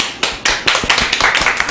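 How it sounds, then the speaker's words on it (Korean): A few people clap in a small practice room, a handful of sharp claps building into brief, loud, close applause. "박수 주세요"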